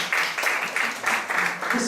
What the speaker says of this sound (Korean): 우리 박수 한번 확 몰아요